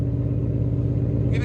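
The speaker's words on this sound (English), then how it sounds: "Let it idle. That's what it sounds at idle." A 2019 Ford Mustang GT with a 5.0L V8 and Dynomax Race Bullets dual exhaust idles in a loud, steady, deep rumble with an even pulsing beat, close by and alone.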